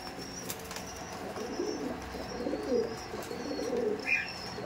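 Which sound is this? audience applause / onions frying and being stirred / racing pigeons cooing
racing pigeons cooing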